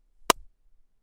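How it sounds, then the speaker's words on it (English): One sharp hand clap in an anechoic chamber, dry and close with no echo or ringing tail, and near-silence on either side. "So a clap in here sounds like this."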